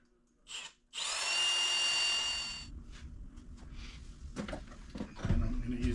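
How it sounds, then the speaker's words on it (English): A power drill whines loudly for about two seconds while boring a pilot hole into a wall for mounting a tire rack, followed by scraping, handling and bumping noises close by. "Making sure that the drill is straight."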